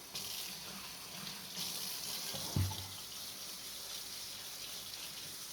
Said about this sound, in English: So we're going to continue rinsing.